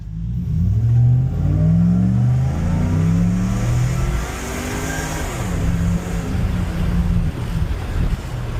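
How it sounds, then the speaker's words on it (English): A supercharged 5.7 HEMI Ram truck accelerates hard, a loud rising engine drone with heavy wind rush, while the front tires rub against the inner fenders. "you can hear it rubbing the fender so bad, the little inner fenders"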